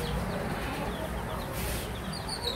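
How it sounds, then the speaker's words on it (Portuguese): Two-day-old chicks on a laying-hen farm peep softly, with scattered thin high chirps over a low, busy background hum; no one speaks. "Os pintinhos que eu tô falando é desses pintinhos aqui"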